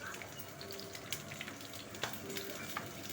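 Green chillies and garlic sauté in oil in a pan for a Tamil chilli thuvaiyal, giving a soft, steady sizzle close by with occasional light stirring clicks.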